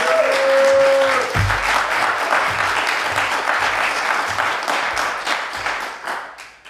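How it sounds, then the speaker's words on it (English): An audience at an arts event gives a warm round of applause for an introduced performer, dense steady clapping from a crowd that swells in right after a brief tone and continues loud, slowly thinning toward the end. "give him a warm round of applause"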